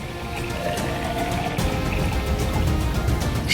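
Water from a household lota being poured in a domestic setting, a steady continuous liquid rush with a faint splashing sheen that holds evenly for a few seconds, fairly close and alone without any voices.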